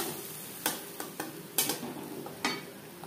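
Tomato paste sizzles in a pan for a pabda fish tomato curry, with several sharp scrapes of stirring and a soft frying hiss between them, heard up close and without speech.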